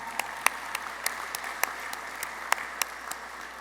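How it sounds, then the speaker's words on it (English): Scattered, sparse applause from a gala audience at a cancer foundation fundraiser, a few distinct claps popping out above a thin, steady patter that stays fairly quiet throughout. "You can clap."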